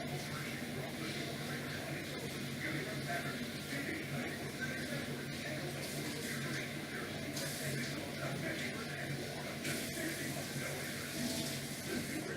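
Tap water pours steadily into a container being rinsed, a continuous close splashing hiss that lasts the whole time at moderate level.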